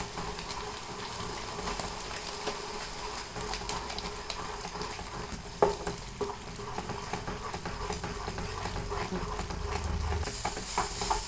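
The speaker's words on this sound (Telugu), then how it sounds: "ఇలాగ చుట్టూ కలుపుతూ ఉండాలి" Rice flour halwa is stirred round and round in a pan, making soft continuous scraping with a faint sizzle underneath, close by, and one louder knock of the spoon midway.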